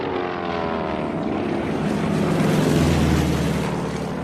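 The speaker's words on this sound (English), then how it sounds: "Dozens of B-17s flying in broad daylight." Dozens of B-17 bomber aircraft fly in broad daylight, a dense, continuous propeller-engine drone with a slowly shifting pitch that swells slightly midway, loud and steady throughout.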